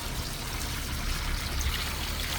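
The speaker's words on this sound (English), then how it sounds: "I'm just going to add some clean water" Clean water poured into a vintage washing machine holding linen for plant dyeing, a loud continuous rushing stream with a low churning undertone, steady throughout, no voices.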